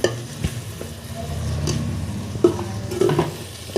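Mint and coriander leaves sautéing in a pan for mutton biryani, with a low steady sizzle, stirring scrapes and a few soft utensil knocks, close and without talk.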